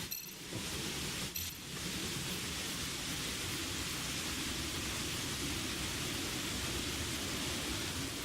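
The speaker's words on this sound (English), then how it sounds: "Right, coming into rain again." Steady rain in the video game Planet Nomads, a dense, even hiss that fills the whole stretch, with a couple of faint clinks at the start. No one speaks.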